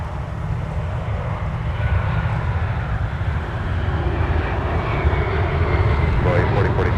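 A United airliner arriving at Minneapolis MSP airport on a winter day gives a loud, steady jet engine roar that slowly builds, while people talk over it.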